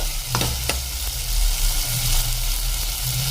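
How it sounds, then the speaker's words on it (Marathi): Spice masala for a country-chicken curry roasts in a pan with a steady, close sizzle, while a spoon stirs it with a couple of scraping strokes early on. "आता आपण हे छान प्रकारे मसाला असा हलवून घेऊया हा मसाला आपल्याला छान प्रकारे भाजून घ्यायचा आहे"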